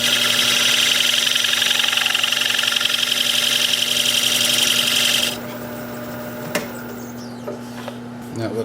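A homemade point tool cuts a groove into a spinning alder platter on a wood lathe, a steady high scraping hiss over the motor hum that stops abruptly, leaving only the lathe running.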